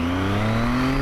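Triumph Tiger 800XC adventure motorcycle pulling away from a standing start, its close, loud engine note holding steady and edging upward in pitch as it accelerates.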